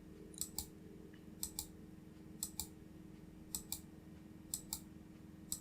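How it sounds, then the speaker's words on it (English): A computer mouse clicks in quick pairs, about six double clicks at roughly one-second intervals, quiet and close over a faint steady hum. "Just keep on clicking"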